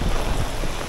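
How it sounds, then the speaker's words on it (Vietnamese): Heavy rain pours down with strong gusting wind at a market in Nha Trang, a dense roaring wash of noise with buffeting rumble against the microphone, no voices. "mưa quá to luôn, mưa lớn lắm"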